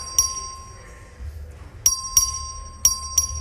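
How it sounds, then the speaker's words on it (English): Voting bell in the Texas House chamber, several sharp bright electric rings at about 1 kHz, a single one early then a cluster of quick repeated dings, over a quiet room murmur. "Clerk, ring the bell."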